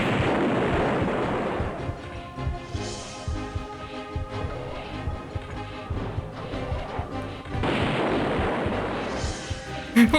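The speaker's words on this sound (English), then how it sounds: "Little grenade." A grenade blasts in the 1996 DOS game Deus, a loud burst of crashing noise that swells at the start and again near the end over steady game music and background rumble.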